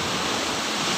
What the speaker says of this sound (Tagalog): So yung dagat, sobrang lakas ng alon.